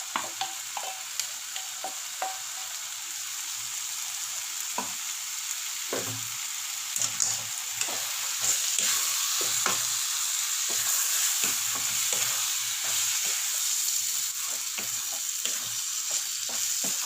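Cucumber poriyal, a South Indian stir-fry, sizzles steadily in a pan as ground masala is stirred through, with a spoon repeatedly scraping and clinking against the pan over a constant quiet hiss.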